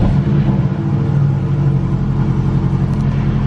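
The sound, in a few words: car engine cold start, four-cylinder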